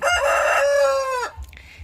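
A single bantam rooster crows nearby, a loud drawn-out cock-a-doodle-doo that cuts off sharply, followed by faint clucking.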